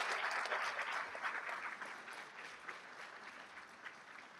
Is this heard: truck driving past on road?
no